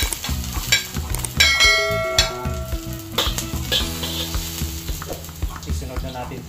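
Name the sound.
ginger sautéing in a pan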